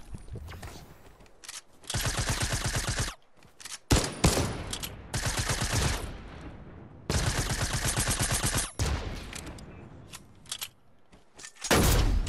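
Rapid automatic gunfire in a shooter video game, several loud sustained bursts of closely spaced shots separated by brief pauses.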